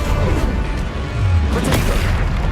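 A fire spell cast in the video game Hogwarts Legacy, heard as a loud sustained whooshing roar with booming, crashing low-end bursts amid a dense run of combat effects.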